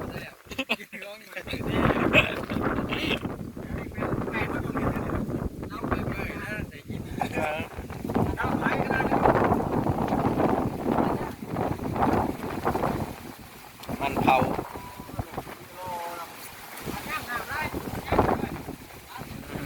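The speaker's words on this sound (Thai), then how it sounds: "ลมแห้งขนาดนั้น" Dry wind blows steadily across an open field, buffeting the microphone with continuous rough gusts while people talk.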